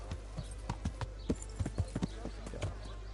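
Horse hooves clip-clop in the video game Kingdom Come: Deliverance, a steady run of moderately loud impacts heard close by over a low ambient hum, with someone talking underneath.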